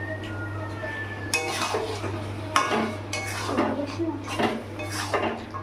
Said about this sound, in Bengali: তো মশলাটা একটু নাড়ি চাড়িয়ে মিশিয়ে নিচ্ছি। এবার মাংসটা এখানে দিয়ে দিচ্ছি।